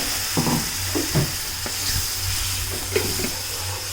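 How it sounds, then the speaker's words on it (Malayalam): Onion and tomato paste sizzles in a hot pan while being stirred, a constant frying crackle broken by a few soft scraping strokes of the spoon, close and alone. "നന്നായിട്ട് ഇളക്കി കൊടുക്കുക,"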